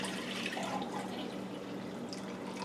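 Water being poured into a glass two-cup mixing cup while making kombucha: a close, continuous splashing pour that stays steady throughout, with no voices.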